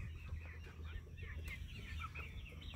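A small backyard flock of hens clucks softly and steadily close by, with short overlapping clucks and peeps throughout.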